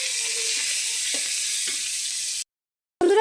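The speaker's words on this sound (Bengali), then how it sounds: "এই গ্রেট করা আদা রসুন পেঁয়াজ দিয়ে দেবো এতে। আমরা এটাকে ভালো করে ভাজে নেব" Grated ginger, garlic and onion sizzle steadily in a hot pan for a couple of seconds, a continuous bright hiss with a few soft stirring scrapes, then a brief cut to silence before the sizzle resumes loudly.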